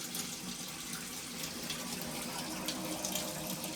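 Water running and draining steadily in a basement, a continuous close, even hiss and splash with no talk over it.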